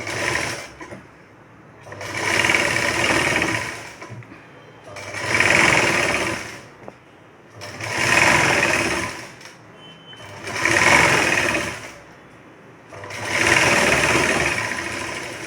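A sewing machine stitches a blouse seam in six even bursts of rapid whirring and clatter, each a couple of seconds long, separated by short quiet pauses.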